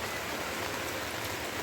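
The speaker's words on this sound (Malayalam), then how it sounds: "ഭയങ്കര മഴ കേട്ടാ." Heavy rain pours steadily and loudly, a dense unbroken hiss with no voices or other sounds over it.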